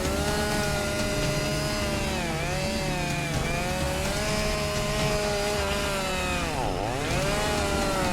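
A chainsaw cuts through a heavy log on a logging hillside, its engine revving high and steady throughout, with pitch dips as the bar bites deeper into the wood.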